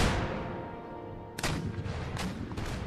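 Troops fire their muskets in the video game Empire: Total War. A ringing tail fades out, then a sharp volley cracks, followed by scattered shots and rolling gunfire at mid distance.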